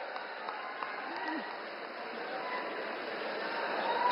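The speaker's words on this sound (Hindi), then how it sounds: "जोरदार तालियां बजती रहनी चाहिए" Crowd applause at a political rally welcoming the Prime Minister in East Champaran, Bihar, a steady, dense wash of clapping held at an even level throughout.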